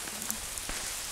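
Heavy rain falling in Whitehouse Woods at Lamlash on the Isle of Arran, a steady broadband hiss of drops hitting leaves and ground, fairly close and continuous with a few sharper drip spikes.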